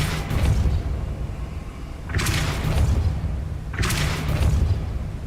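Depulso force-push spells in Hogwarts Legacy sound as three heavy whooshing thumps, each a loud blast that decays slowly, spaced about two seconds apart over continuous game ambience.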